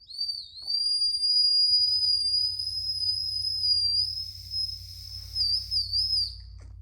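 Steady high-pitched air whistle from a Nissan 350Z engine cylinder as it is turned over on compression, sustained and fairly loud for most of the stretch, wavering near the end before cutting off, with a low mechanical rumble underneath.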